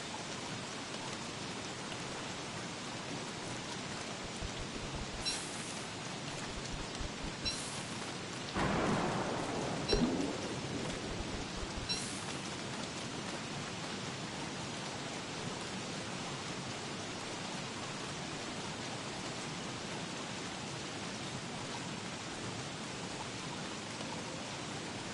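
Steady rain hisses throughout in the Don't Starve video game, with a louder rumble of thunder rolling in near the middle and a few brief crackles earlier, no voices present.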